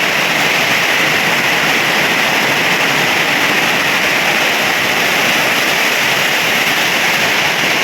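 Heavy rain from a typhoon making landfall pours down in a loud, dense, unbroken roar that holds steady throughout, with no voices.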